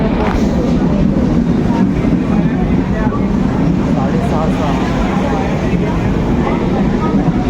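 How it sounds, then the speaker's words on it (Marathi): A constant low rumble of the Mandovi Express train arriving at Thane station, with rattling carriages running steadily throughout, loud and close, under a busy background din. "आत्ता ट्रेन आली"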